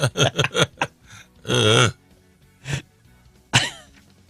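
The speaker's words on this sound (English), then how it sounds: "for making me cough" Several short coughs in quick succession, then a longer harsh throat sound and a couple of isolated coughs, close and loud.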